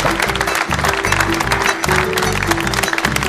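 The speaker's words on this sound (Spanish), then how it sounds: "Comienzan los aplausos" Applause from the crowd at a live folk music peña, the clapping blended with loud, steady music playing underneath throughout.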